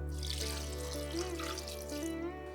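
Water poured into a pan from a bowl to make jaggery syrup for lapsi, a short, quiet, steady trickling stream heard close with no talk.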